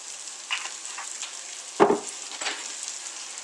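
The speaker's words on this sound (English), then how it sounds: "I'm going to get that oil in now." Oil crackling and hissing in a hot pan with spread-out sweet potatoes for a frittata, a steady fizz broken by a louder burst of spitting midway and a smaller flare near the end.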